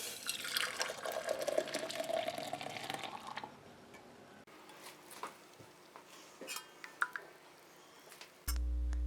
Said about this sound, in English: now I'll put my warm tea into my tumbler